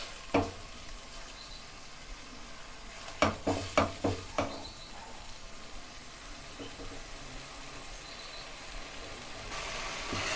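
Dry chicken masala fries in a pan with a soft sizzle, punctuated by a quick cluster of loud spatula clanks and scrapes, then quieter stirring until a rising hiss at the end.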